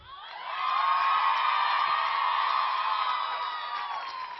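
Graduates at a university commencement ceremony cheering and whooping loudly, a sustained roar of many voices with shouts that swells quickly and holds steady.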